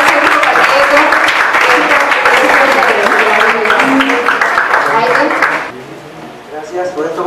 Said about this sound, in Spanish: voy a dar un aplauso a Jaime